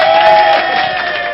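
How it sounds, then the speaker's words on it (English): Conference audience at the Phreaknic hacker convention cheering and whooping on cue, a loud, dense, sustained crowd roar with no clear break across the short moment. "Applaud!"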